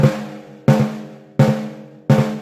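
Four snare drum flams, each a quick pair of hits landing almost together, evenly spaced and played close with no other sounds.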